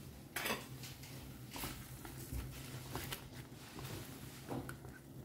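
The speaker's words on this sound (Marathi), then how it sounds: "सो दही घालता आनी दही घालून ताका बरें मिक्स करून घेता." Yogurt is stirred into a pan for Hyderabadi paneer over a low flame, giving soft, faint scraping and clinking of a spoon against the pan in irregular strokes, with no talk over it.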